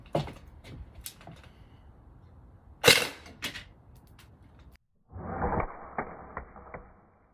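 An air gun fires a burst of shots at a carbon fiber case. Sharp, snappy pops and impacts come in a scattered cluster, one louder crack among them, followed by a rougher rattling stretch and quiet.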